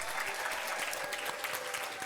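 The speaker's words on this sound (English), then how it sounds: "Come on, let's give them a round of applause." A literacy coalition symposium audience in Newark gives a round of applause: a steady, even wash of many hands clapping at once, somewhat distant and sustained throughout.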